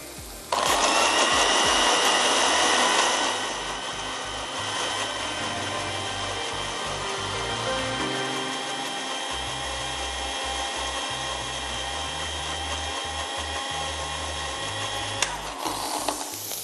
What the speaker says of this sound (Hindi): इसको मैं एक दफ़ा और अच्छा सा ब्लेंड कर लेती हूँ।